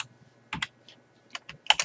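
Keystrokes on a computer keyboard as a setup install command is typed, a few quiet taps followed by a couple of sharper clusters of clicks, close and alone.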